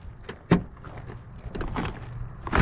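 Car door of a 1969 Chevy van that won't open, a sharp metallic thunk of the handle followed by several scraping clunks and rattles as it is tried again, close and fairly quiet.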